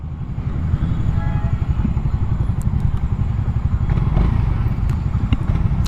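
A Suzuki Raider 150 fuel-injected motorcycle engine drones steadily at close range throughout, a low rumbling with slight revving variation, as if heard while riding.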